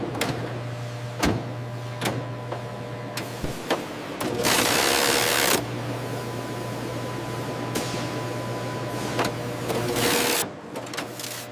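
Guillotine cutter with a razor-sharp blade slicing printed banknote sheets inside a currency printing factory: steady machine hum broken by sharp clacking strokes and one long loud whooshing cut partway through.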